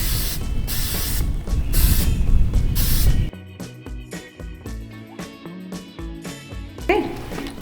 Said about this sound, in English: Spray the corn really well.